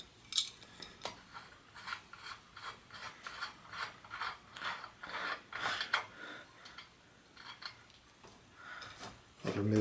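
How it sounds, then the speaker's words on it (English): A lock nut being worked off a bike headset, heard as close, repeated rasping and ratcheting metal scrapes in an uneven rhythm, with soft mechanical clicks between them and a louder clunk at the end. "go ahead and remove the lock nut on here"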